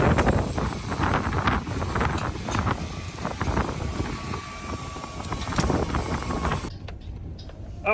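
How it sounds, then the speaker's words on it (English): Gusty wind buffets the microphone outdoors at a landfill while a dumpster trailer is being emptied, a steady broadband roar with rumbling bursts throughout that drops away abruptly near the end. "it's a windy day"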